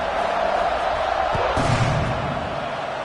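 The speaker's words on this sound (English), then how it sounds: "this crowd is buzzing after that last score." Stadium crowd noise in the NCAA 26 college football video game, a steady, dense roar of many voices that swells slightly midway and holds loud throughout with no clear talk on top.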